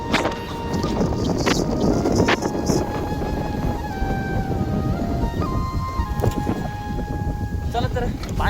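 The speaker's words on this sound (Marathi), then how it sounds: "वारं पण असं खूप सुटलेलं आहे आता." Strong wind roars outdoors near a village road, a loud, continuous rushing with gusty swells and scattered rattles throughout.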